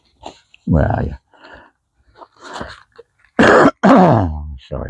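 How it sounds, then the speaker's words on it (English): A person close to the microphone clears their throat and coughs several times in rough, harsh bursts, with short pauses and breaths between. "Sorry about my coughing and wheezing and everything else."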